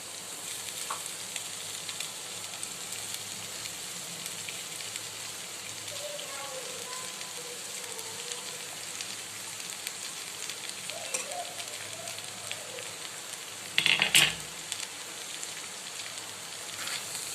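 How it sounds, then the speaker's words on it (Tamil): Boiled wheat egg noodles are stir-fried and mixed with vegetables in a pan, giving a continuous crackling sizzle with soft stirring and scraping, plus a short louder clatter of utensil on pan near the end. "இதை நம்ம காய்கறியோட சேர்த்து கலந்து விட்டுடலாம்."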